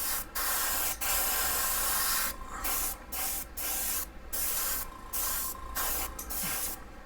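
Gloss black base paint sprayed onto a clone Benchmade 940 knife in a series of hissing aerosol bursts, several long and short, with brief pauses between, fairly close.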